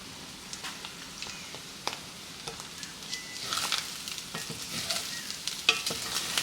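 Food browning in a pan over medium heat during brunch cooking, giving a quiet, steady crackle and sizzle with scattered small pops and occasional stirring clicks, no one talking.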